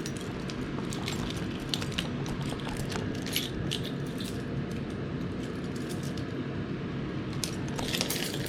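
Lots of metal keys jangling and clinking as they are hung on a laser-engraved key holder, a steady busy rattle with sharper metallic clicks popping out now and then, close by.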